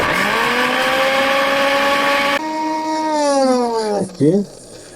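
A powerful electric mixer grinder runs with a loud, steady motor whine, shifts pitch partway through, then winds down sharply and sputters to a stop.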